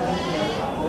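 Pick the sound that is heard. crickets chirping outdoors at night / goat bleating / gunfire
goat bleating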